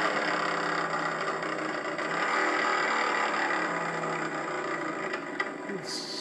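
A steady, rumbling motorcycle-style engine idle plays continuously and fairly loud, with a faint click near the end, as a sound effect from a Harley-Davidson Softail Classic motorcycle lamp.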